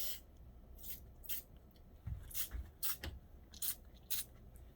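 A hand spray bottle is squeezed repeatedly, giving about eight short, close hissing spritzes in an irregular rhythm, with soft handling thumps between them.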